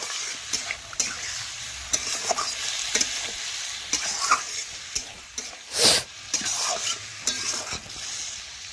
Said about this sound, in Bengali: এখন চিকেনটা বেশ কিছুক্ষণ ধরে আমি নাড়াচাড়া করে সব কিছু আরও ভালোভাবে মিশিয়ে